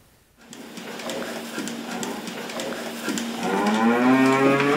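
Dairy cows low at a dairy farm in Setouchi, Okayama. After a brief quiet start, a long steady moo rises and swells louder, with other cattle and farm machinery humming beneath it, and no talking.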